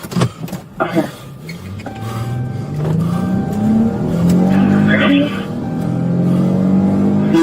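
Car pulling away hard during a high-speed police chase, tires squealing with rising engine revs over several seconds, close and loud, with brief voices at the start.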